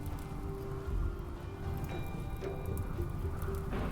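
Rain in the video game RimWorld makes a steady, moderate patter with faint thin tones drifting over it, and no voices are heard.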